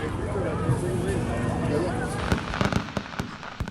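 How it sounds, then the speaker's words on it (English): Fireworks go off at Dollywood Winterfest, filmed by drone from two miles away. Muffled pops and crackles come in toward the end over a dense, steady rumble of background noise. "every night they have fireworks"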